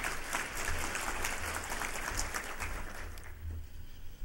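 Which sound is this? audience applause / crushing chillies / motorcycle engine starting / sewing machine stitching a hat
audience applause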